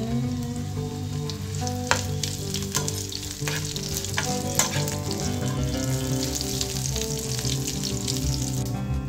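Cumin, mustard seeds, dried chillies, garlic and curry leaves frying in hot oil as tempering for masala egg fry, a steady close sizzle with crackling pops and occasional stirring clinks, no voices.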